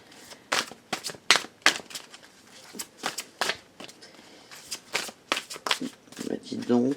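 Tarot cards shuffled and riffled for a reading in quick irregular bursts of crisp papery flicks, close up, while someone talks over them.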